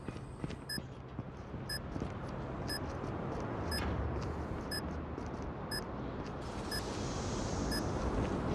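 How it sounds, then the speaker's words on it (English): A planted bomb in a video game beeping, short high pings repeating about once a second, steady and fairly faint over a rushing background. "Bomb has been planted."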